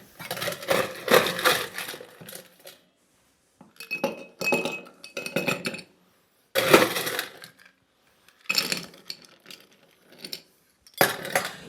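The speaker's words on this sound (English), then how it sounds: "This is actually going into a hurricane glass. And I want to fill this up with ice." Ice cubes dropped into a hurricane glass in several separate bursts, bright clinks and rattles with silent gaps between, close and crisp.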